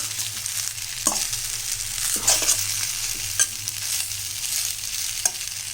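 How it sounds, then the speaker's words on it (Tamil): Tomato rice is stirred in a pan over low sizzling frying, with repeated scraping spoon strokes and occasional clinks against the metal, close and alone. "இப்போ இதை நல்லா நம்ம கிளறிடலாம்"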